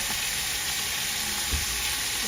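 Ingredients sauté in a pan for a coconut-milk dish of beans, squash and crab, giving a steady, close broadband sizzle with a faint soft knock partway through and no talking.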